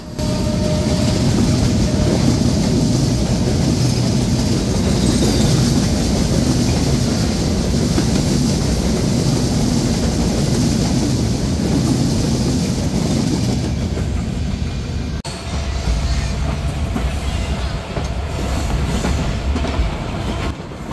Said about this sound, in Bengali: হিলি রেলওয়ে স্টেশনেই দেখা হলো চিলাহাটি থেকে ঢাকাগামী আন্তনগর চিলাহাটি এক্সপ্রেসের সাথে